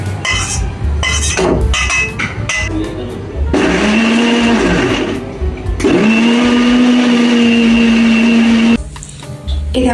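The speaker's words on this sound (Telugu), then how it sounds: "ఇది ఫుల్ ఫైన్గా నేను మిక్సీ పట్టుకున్నాను." A kitchen mixer grinder whirs loudly at high speed as it blends peanuts, tamarind and tomato into chutney, running in long bursts with short pauses and clattering of the jar between runs.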